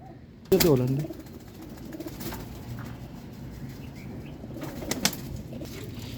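Pigeons, prized breeding hens from a Lahore fancier's loft, give a short burst of cooing and wing flapping near the start, then faint cooing under someone talking over a busy background.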